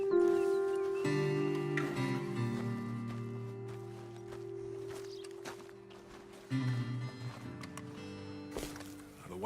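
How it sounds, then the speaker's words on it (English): Horses in the Red Dead Redemption 2 video game stepping at a slow walk, soft intermittent hoof clops under a steady ambient drone and faint game music. "Best leave the horses back a bit."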